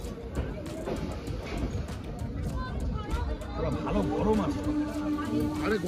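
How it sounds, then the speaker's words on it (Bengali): A local train on the Asansol–Purulia line runs from Adra toward Purulia, its steady rolling rumble heard from on board beneath continuous crowd chatter and hubbub in the carriage. "আর এইবারে আদ্রা ছেড়ে দিয়ে ট্রেন আস্তে আস্তে পুরুলিয়ার দিকে এগোচ্ছে।"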